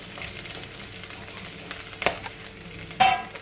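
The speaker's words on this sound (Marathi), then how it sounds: "खोबरं आणि हे गरम सगळं मसाला भाजून घ्यायचा." Fresh grated coconut roasting with garam masala in a pan for a Malvani masala, soft sizzling under scraping stirs, with a couple of louder clanks of the spatula against the pan.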